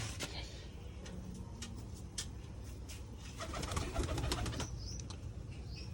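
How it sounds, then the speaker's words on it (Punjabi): Pigeons cooing steadily in low, rolling calls, with scattered clicks and rustling from a busy coop around them. "ਇੱਕ ਤਾਂ ਆ ਗਈ ਕਬੂਤਰੀ"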